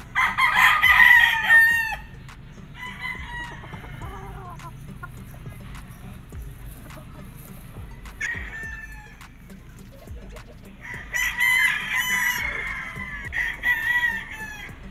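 Elgama Gray gamefowl roosters on a Filipino game farm crow loudly in two long bursts at the start and end, with softer clucking and a brief crow between, over steady low farm background noise.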